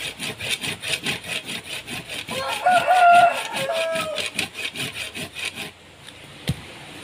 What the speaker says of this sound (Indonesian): untuk pegangannya kita gergaji dulu untuk mempermudah cara membuatnya